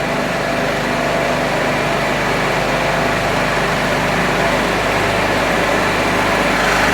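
A multi-cylinder petrol engine running on a laboratory test bench at about 3000 rpm under load, giving a steady, loud, continuous hum and buzz that stays close and even throughout, with no pauses.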